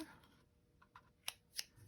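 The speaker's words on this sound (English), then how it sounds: "That's my fabric scissors." A few quiet snips of fabric scissors, two sharper metallic clicks near the end, faint and close over a soft background.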